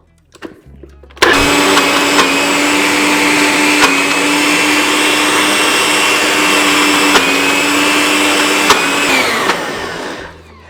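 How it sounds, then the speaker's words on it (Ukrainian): A blender starts abruptly and whirs loudly and steadily for several seconds, with slight pitch shifts, then winds down at the end, blending pumpkin hummus ingredients. "всю цю красу ми беремо і куди, і в блендер"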